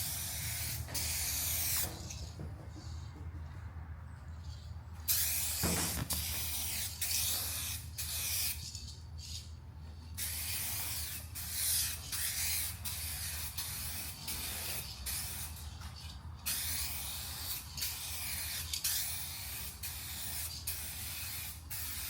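Spray-can paint applied as a light wet coat on a car in a driveway: long, close bursts of hissing spray separated by short pauses, with a faint background hum between passes.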